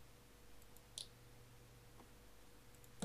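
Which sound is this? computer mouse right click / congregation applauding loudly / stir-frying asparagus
computer mouse right click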